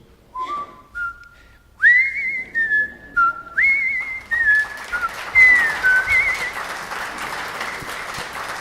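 Someone whistles a bright, wandering melody, short phrases at first then longer sustained notes, close and clear with a faint background hiss.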